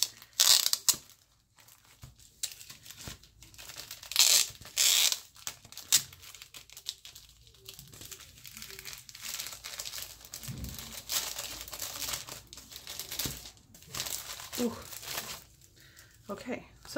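A paper gift package is opened, with crisp crinkling and rustling and sudden bursts of tearing. The sounds are quiet and intermittent, with a voice heard at times.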